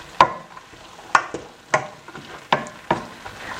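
Black beans being stirred into onions, red peppers and garlic in a pan, a series of five distinct close scraping knocks of a spoon at a slow, uneven rhythm over a faint sizzle.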